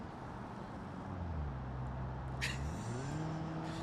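Simulated tyres squeal from a modest car in the BeamNG driving game, a rising tonal whine over steady engine drone, with a brief sharp screech midway, loud and close throughout.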